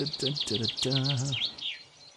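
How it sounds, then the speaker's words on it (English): Loud video-game birds chirp in quick repeated bursts followed by a rising and falling warble, bright and close, with no talking over them. "Let's put the really loud birds back on."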